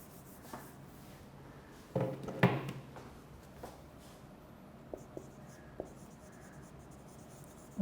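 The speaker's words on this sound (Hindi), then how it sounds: "मैं लिख भी देता हूं इधर" Marker or chalk writing on a board during an English lecture, with scratchy strokes and taps spread through a quiet room and a few sharper bursts near the middle, no speech over it.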